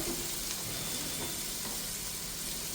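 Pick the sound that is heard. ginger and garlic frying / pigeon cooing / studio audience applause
ginger and garlic frying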